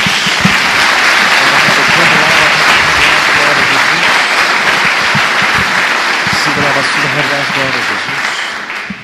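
Loud, sustained applause from a church congregation, dense clapping filling the whole span with a few voices mixed in, easing off slightly near the end.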